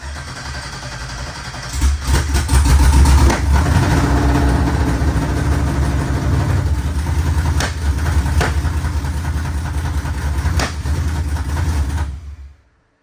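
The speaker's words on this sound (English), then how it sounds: "that's pretty gnarly backfire" An LS-swapped 4x4 Cadillac burnout car's V8 fires up and runs loud and rough at close range, with sharp backfire cracks popping over the heavy rumble before it cuts off.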